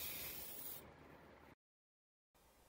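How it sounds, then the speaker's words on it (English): Carb cleaner sprayed onto rods from an Edelbrock Performer 600 cfm carburetor, a close hissing burst that softens partway, then a brief gap of silence before a fainter hiss resumes. "I sprayed these rods with carb cleaner."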